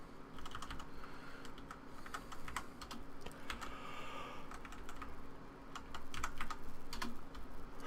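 Keys clacking on a computer keyboard in a steady, uneven patter of quick taps close to the microphone, with brief pauses between bursts and no talking.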